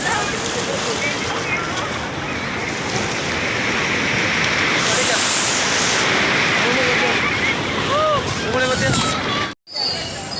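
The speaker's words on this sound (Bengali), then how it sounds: "প্রচন্ড হ্যাঁ ঢেউটা অনেক বেশি এখন, খুব ভালো লাগছে আমাদের" Strong ocean waves break at Puri beach in a continuous loud roar of surf, with crowd chatter and voices mixed in and a brief cutout near the end.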